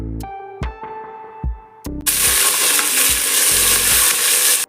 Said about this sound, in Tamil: நல்லா பொன்னிறமாக வர வரைக்கும் வதக்கிக்கலாம்